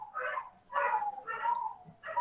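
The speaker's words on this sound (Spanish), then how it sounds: "acá mi perrita está escuchando los ladridos de su perro y también está ladrando" Neighbours' dogs bark in a string of four or five loud, mid-pitched barks a short distance away, with brief gaps between them.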